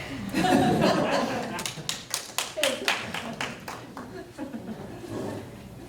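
Applause from the audience at a Fayetteville-Manlius Central School District board of education meeting, a few seconds of moderate clapping with sharp claps and light chuckling mixed in, under room murmur.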